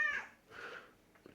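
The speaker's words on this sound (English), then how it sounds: "It's my cat in the background." A domestic cat meows twice close by, a bright drawn-out call followed by a softer second one, with no talking over it.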